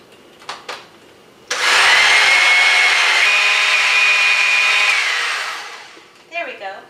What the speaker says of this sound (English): We're going to blend this for 1 minute.